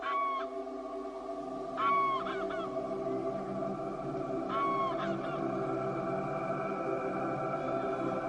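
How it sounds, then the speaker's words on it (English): Greylag geese honk in short bursts at intervals over a steady background hum, several calls close together, moderately near, in Doñana. "Grey-lag geese fly in for breakfast"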